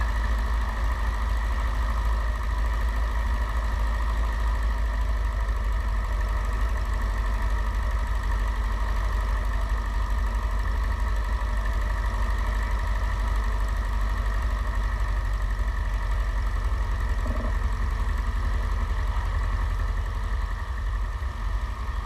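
Light aircraft engine idling on the ground at a small runway ahead of the run-up, a steady loud drone with a constant low throb and faint vibration that holds unchanged throughout, no voices.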